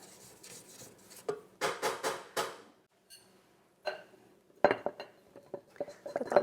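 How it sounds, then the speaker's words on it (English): Spatula or scraper working around the sides of a mixing bowl of hamantaschen dough, giving a run of close, uneven scrapes and clinks in irregular bursts with short quiet gaps. "So I'm going to scrape down the sides."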